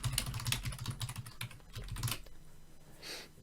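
Rapid, close keyboard typing on a computer while a code comment is written, a steady run of crisp clicks that stops near the end before a short soft rustle.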